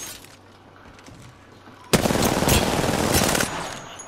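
Gunfire in the video game Apex Legends erupts halfway through as a loud, continuous automatic burst lasting about a second and a half, following a quieter stretch of game ambience.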